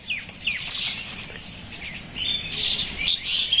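Birds chirp and tweet in a netted dragon fruit garden, with short bright calls scattered across the clip and a fluttering of wings, moderately close against a faint outdoor background.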